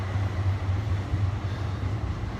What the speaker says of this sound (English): Oh, there goes the tramway. Train.